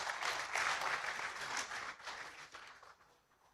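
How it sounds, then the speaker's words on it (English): An audience at an academic honorary conference applauds to welcome a speaker to the stage. Dense, steady clapping fills the room at moderate loudness, then gradually thins and fades toward the end. "Let's welcome him with a round of applause."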